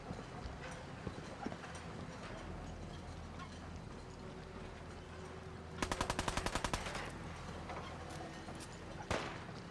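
Gunfire from an enemy in Fallout 4: a rapid, evenly spaced burst of about a dozen shots, then a single later crack, over steady low game ambience with no talk.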